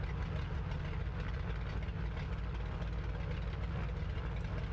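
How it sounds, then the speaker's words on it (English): Grumman JRF-6B Goose radial engines roaring in Microsoft Flight Simulator, a steady, dense, loud low rumble with constant throbbing and no voices. "Or open the window, I should say, and listen to the fantastic engine roar."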